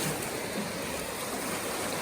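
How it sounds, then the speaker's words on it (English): Muddy brown rainwater, six to eight feet deep, rushes fast under a rickety homemade bridge, a constant broad roar and hiss close by. "you can see the water running underneath right there"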